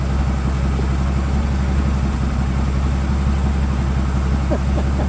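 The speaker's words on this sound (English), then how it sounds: "Let me hear this idle for a second." A 1980 AMC AMX Spirit engine idles steadily up close, a constant low rumbling with even pulses and no revving.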